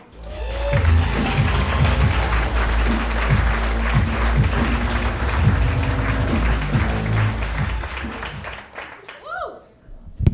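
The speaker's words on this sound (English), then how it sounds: "a big round of applause for Sayrie." Audience applause and cheering greet a comedian at a comedy show, sustained clapping from a crowd over bass-heavy walk-on music, fading near the end as the music stops.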